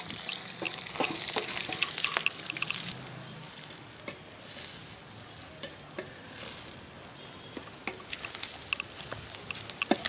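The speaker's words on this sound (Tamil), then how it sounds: "சிம்மில் வச்சு வதக்குங்க நல்லா." Curry leaves, green chilies and onion sauté in a pan with a steady soft sizzle, broken by occasional clicks and scrapes of stirring, moderately close.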